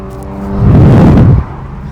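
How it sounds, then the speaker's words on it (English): A BMW Z4 sports car engine near Goodwood revs hard in one loud, roaring burst lasting under a second, rising over a low steady idle and falling back again. "Steve keeps kind of like putting his foot down and making a racket in his car"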